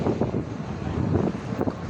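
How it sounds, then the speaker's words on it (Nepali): Strong gusts of wind buffet the microphone at a village bus park in Nepal, a low, uneven rumble that surges and fades in short pulses. "यहाँ नजिक हुरी बतास आइरहेको छ।"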